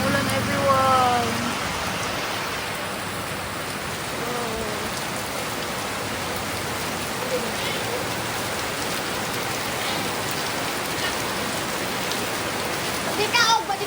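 Heavy rain pouring steadily in Mabinay in the Philippines, a dense continuous hiss of drops on surfaces, loud and unbroken, with a few faint background sounds mixed in.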